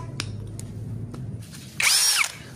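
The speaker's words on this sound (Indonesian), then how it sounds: "Mata bor kipas 24 mili. Kecepatan 2 ya, coba." A Zhipu 16V brushless cordless drill with a 24 mm spade bit at speed 2 whines up briefly and loudly near the end, a short high-pitched burst of boring after a low motor hum and a few clicks.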